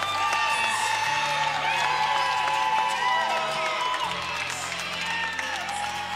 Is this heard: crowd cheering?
yes